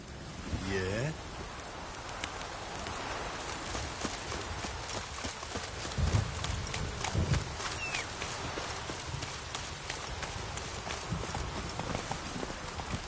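Roach the horse galloping in The Witcher 3, with steady hoof clip-clops running under a bed of ambient game noise and occasional louder thumps.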